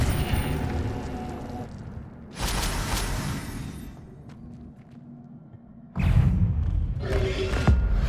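Incendio fire spell cast in Hogwarts Legacy, heard as bursts of broadband whooshing blasts: one loud surge around the middle and a stronger sustained rush near the end, with quieter rumbling between.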